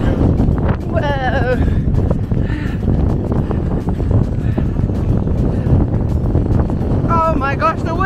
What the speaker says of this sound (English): Oh my gosh, the wind. Headwind.